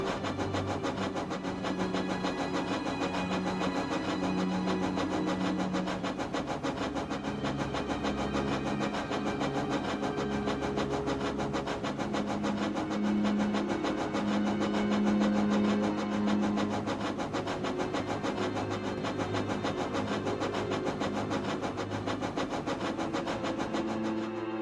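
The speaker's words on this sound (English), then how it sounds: "Did I just hear a train go by?" A tank engine train on the Island of Sodor passes at a distance in fog, a low steady rumbling chug with faint clattering that holds for the whole stretch, with no voices.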